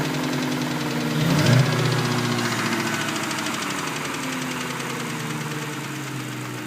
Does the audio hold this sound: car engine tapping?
yes